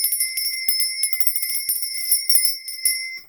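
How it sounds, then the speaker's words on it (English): Small hand bell rung rapidly and continuously, bright sustained metallic tones with quick repeated strikes, close and clear with no talking. "I'm going to be ringing my lady bell"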